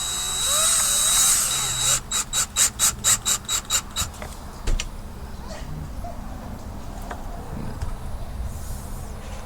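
A power drill driving screws into pallet-wood shelves whirs in a rapid burst of rhythmic pulses for about two seconds, then quiet shop ambience follows with a few faint clicks.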